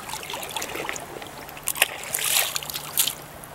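A rainbow trout is released back into a river, giving a few soft splashes and sloshes over a steady background trickle of flowing water, with no talking.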